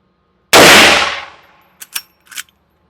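A single loud gunshot from a Henry Mare's Leg .44 Magnum fired at a target rings out and decays, followed by a few faint metallic clicks.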